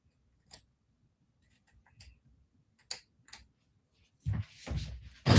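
Scissors cut through the embroidery on a custom sweatshirt with lace outline lettering, making sparse, sharp snips and clicks, with brief rustling of fabric toward the end.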